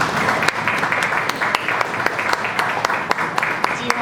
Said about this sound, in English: ask you all to give them a round of applause with me